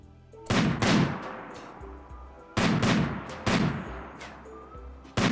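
Colonists fire guns in a RimWorld Ideology battle, crisp gunshots arriving in short clustered bursts separated by brief pauses, loud and alone without talk.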